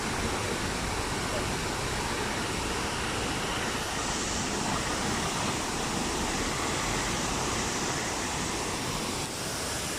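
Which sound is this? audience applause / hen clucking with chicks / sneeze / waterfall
waterfall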